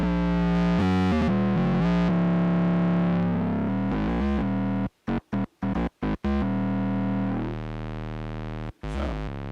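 Roland SE-02 analog synthesizer run with feedback distortion into its mixer stage, giving a loud, buzzy sustained tone with shifting timbre, broken by a run of short stuttering gaps near the middle.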